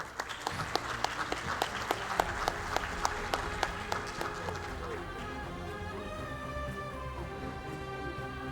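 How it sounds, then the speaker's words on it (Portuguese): Applause from a property-development forum audience, a brisk run of sharp claps that gradually gives way to sustained, quieter background sound and voices. "Por favor, uma salva de palmas."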